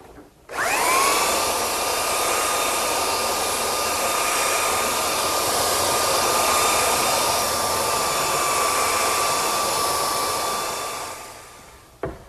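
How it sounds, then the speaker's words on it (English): A belt sander works along the grain of a wooden drop-leaf table top, spinning up to a loud, steady whirring roar with a high whine and holding it for about eleven seconds before cutting off, close by, no talking. "when you do belt sanding. You don't want to let the sander sit in one place"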